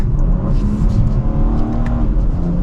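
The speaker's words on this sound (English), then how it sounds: "we can also make the exhaust less quiet." A 2025 BMW M4 Competition xDrive's engine and exhaust rev loudly and steadily up close, a continuous throaty roar with slight rises and dips and no talking.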